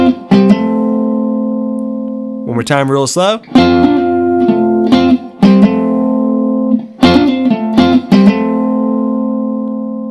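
Electric guitar playing a pentatonic lick over a 1-6-4-5 progression, with sustained loud chordal notes and quick bends and hammer-pulls between them, close and clear, with a voice speaking briefly.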